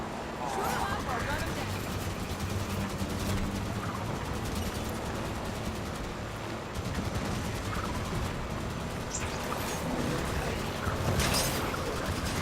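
Rapid bursts of incinerator cannon fire from Knights crackle continuously in a Halo 5 battle, with explosions and mechanical clatter blending into a dense, steady roar.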